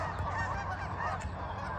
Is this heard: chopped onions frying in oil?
no